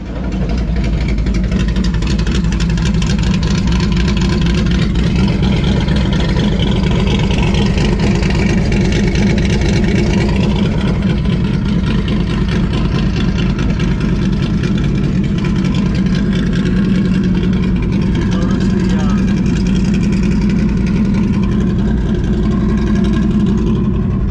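A 1959 Chevrolet engine runs loud and close, revving and rumbling deeply through open exhaust cutouts, with a steady throaty roar throughout.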